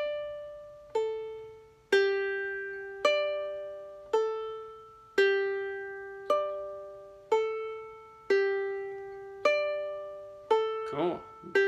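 Ukulele triplet pull-off phrase against a ringing high G drone, about ten evenly spaced plucked notes, each ringing out and decaying, close and clear with no talking.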